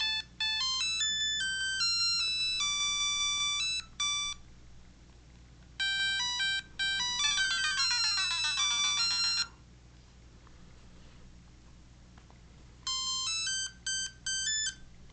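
Chiptune melodies play from a handheld mini game player loaded with a large built-in collection of games: bright square-wave tunes in bursts with short pauses, including a dense arpeggiated run, loud and close with no talking.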